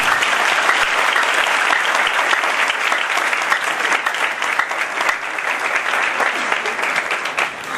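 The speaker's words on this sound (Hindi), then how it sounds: "जोरदार तालियां।" A church congregation at a worship service breaks into loud, sustained applause, dense clapping from many hands close by that carries on steadily and eases slightly toward the end.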